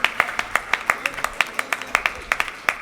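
Rhythmic clapping from a crowd at the prize distribution of a Kudremukh Trophy event, steady, close and fairly loud, with speech mixed in.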